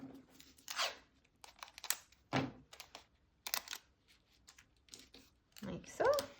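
Paper trimmed for cardmaking gives a few scattered short cutting and tearing strokes with small thunks between them, close by, and a voice talks lightly now and then.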